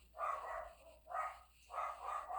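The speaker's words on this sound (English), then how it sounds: "my doggy is freaking out upstairs as usual" A dog barking upstairs, heard indoors from another floor: three steady barks spaced about a second apart, moderately loud and slightly muffled, with no voices over them.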